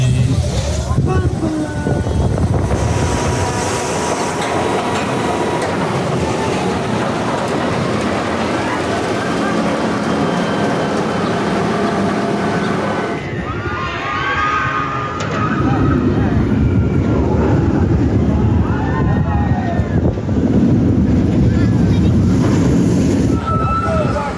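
Riders plunge 150 feet on the Emperor roller coaster at SeaWorld San Diego, a loud, sustained roar of rushing wind and track rumble that swells through the drop and continues steadily to the end.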